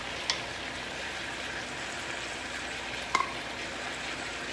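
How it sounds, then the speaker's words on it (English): Sausages fry in a pan alongside peppers, giving a steady soft sizzle with two brief clicks of utensil contact, fairly quiet and with no voices. "The sausages, which I put into, and then let it cook away, like this."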